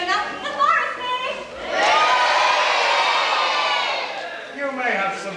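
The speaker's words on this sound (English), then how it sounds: "When I say the word Forest Fairy, you have to cheer." A pantomime audience of children and adults breaks into sustained cheering and shouting for the Forest Fairy in Little Red Riding Hood, swelling loudly for a few seconds between bursts of a performer's voice.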